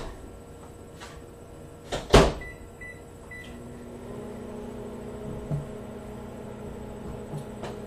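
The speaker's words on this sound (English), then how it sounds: "This one's going in the microwave for 1 minute." Microwave oven heating a cracker cereal mix: a loud clunk of the door shutting, then a steady low hum as it runs, with a few faint clicks and no talking.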